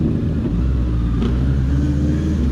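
Road traffic on the way to Tagaytay makes a steady, loud low rumble of engines and tires, continuous and without pauses.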